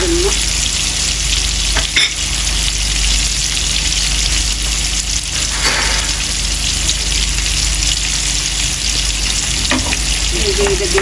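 Hilsa fish fries in hot oil with chili, giving a loud, steady, dense sizzle that crackles and spits throughout with no talking.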